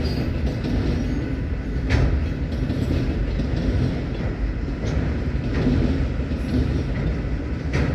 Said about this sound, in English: here comes the end of the Union Pacific manifest heading west